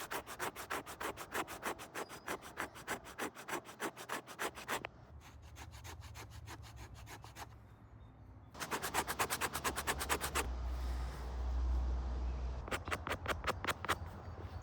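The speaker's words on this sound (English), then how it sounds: "By just scraping it a little bit, it's going to look all nice and white, and it just takes a few minutes with your knife." A knife scrapes a raccoon hide, giving rapid, rhythmic rasping strokes in three bursts separated by quieter rustling and handling.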